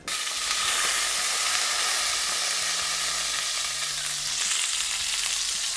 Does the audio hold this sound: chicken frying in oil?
yes